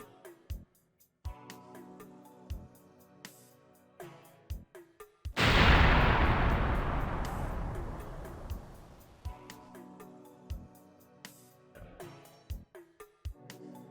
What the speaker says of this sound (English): the explosion's a lot bigger than in Journeyman Project Turbo